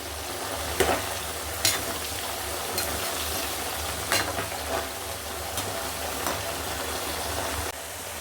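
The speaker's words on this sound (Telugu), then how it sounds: "నువ్వుల నూనెలో బాగా ఫ్రై చేసుకోవాలి" Brinjal pieces fry in sesame oil with a continuous dense sizzle and bubbling hiss, broken now and then by a few sharp clicks of stirring, close and steady with no voices.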